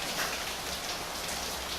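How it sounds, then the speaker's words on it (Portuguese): Heavy rain pours down in a steady, dense hiss, close and loud throughout, with no voices. "pegou forte a chuva aqui"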